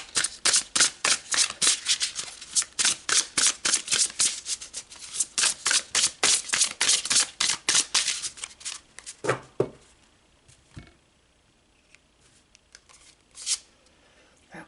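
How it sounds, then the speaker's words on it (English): Tarot cards are shuffled in a rapid series of crisp riffling flicks and snaps, close and fairly loud, then slow to a few isolated slaps and slides as cards are drawn out. "So let's pull some more cards"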